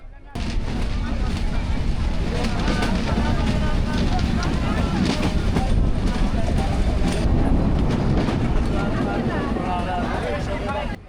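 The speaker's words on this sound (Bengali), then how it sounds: "যথাসময়ে ট্রেন যাত্রা শুরু করলো।" A crowded passenger train on the route to Rajshahi, Bangladesh, rumbles steadily as it pulls away and runs along the track, a continuous loud rolling noise with clatter throughout and voices mixed in underneath.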